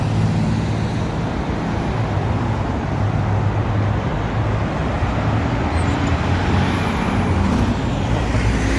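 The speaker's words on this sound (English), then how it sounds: "Here comes the traffic." Dense traffic roars past on a busy downtown Toronto street near Lakeshore Boulevard West under an overpass, a loud continuous wash of car and truck engines and tire noise with faint air-brake hisses and no talking.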